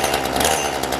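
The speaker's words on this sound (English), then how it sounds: "the issue with this chainsaw is that it will crank up and run, but the blade will not move." A chainsaw with a stuck chain cranking and running, a loud close buzzing engine drone that holds steady without a break.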